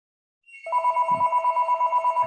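Telephone ringing during a class meeting, a steady repeating electronic ring pulsing in a regular rhythm, fairly loud and close, with a brief low thump partway through and no talk.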